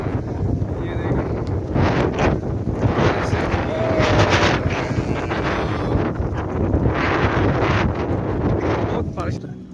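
Heavy rain falls over a village in Saudi Arabia as a loud, continuous, dense hiss with wind-like buffeting, and a voice talks over the steady downpour.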